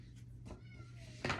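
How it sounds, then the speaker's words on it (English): Pet cat meowing at a window to come in, a short rising meow followed by a louder sharp cry, faint and somewhat distant. "My cat she's by my window meowing to come in."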